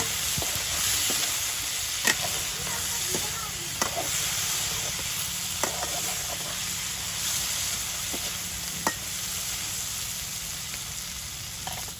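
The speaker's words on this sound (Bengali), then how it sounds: "দিয়ে দিচ্ছি পেঁয়াজ কুচি" Chopped onion frying in oil in a pan for a light, thick-gravy pointed gourd and small shrimp curry, a steady close sizzle with occasional sharp stirring clicks throughout.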